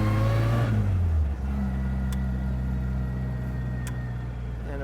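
A 1960 Bugeye Sprite engine idles with a steady, fairly loud low hum close by; its pitch settles lower after the first second and then holds an even drone.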